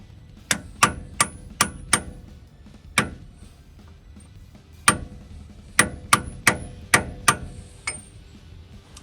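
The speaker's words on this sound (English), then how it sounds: "grab a big socket that's gonna fit the outer diameter of the seal and smack it" A big socket is hammered to drive a new axle seal into a Toyota FJ45 solid front axle, with sharp metallic strikes in two bursts, five blows, a single hit, then six more, each ringing briefly, close up, with no talking.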